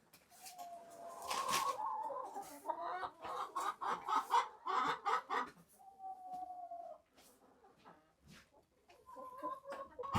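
Hens cluck and murmur in a low, steady chatter inside a winter chicken coop, close by and mid-loud, with short squawks and a few softer calls between them.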